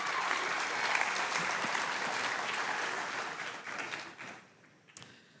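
A crowd applauds steadily at a high school sports awards ceremony, a dense sustained wash of clapping that gradually tapers and fades near the end.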